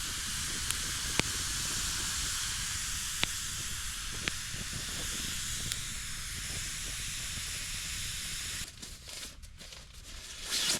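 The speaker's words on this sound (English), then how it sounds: "Listen to the fire sizzle." A campfire hisses and sizzles steadily up close on a cold night, with a few sharp crackles and pops scattered through the constant hiss before it briefly falters.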